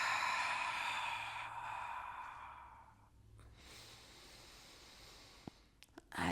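A slow, breathy exhale during a Pilates core exercise, a long soft airy rush fading out over about three seconds, followed by quiet and a few faint clicks.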